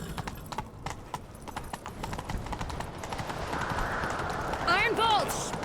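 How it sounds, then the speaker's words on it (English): Horse hooves gallop in The Witcher 3 video game, a rapid rhythmic clip-clop up close that builds into a rushing ride, ending with a horse's whinny, while characters talk over it. "Grab a horse, we'll chase him down."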